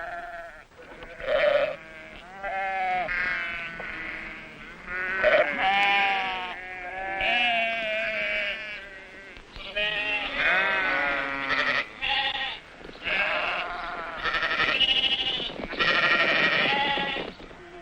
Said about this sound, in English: Veterinary teams now travel from herd to herd to inoculate the sheep.